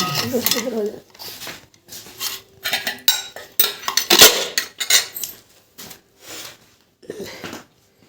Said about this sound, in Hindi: बर्तन वगैरह इकट्ठे कर रहे हैं।